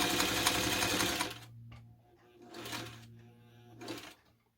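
A Singer 301 sewing machine stitches in a fast, steady run that stops, then gives two shorter bursts with a faint hum between, close and fairly quiet.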